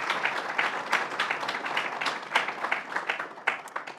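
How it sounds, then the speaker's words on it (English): An audience at a quality and patient safety day event applauds faculty mentors, a continuous moderate wash of clapping with distinct individual claps standing out, no one speaking over it. "can I have a round of applause for the faculty mentors who make this possible"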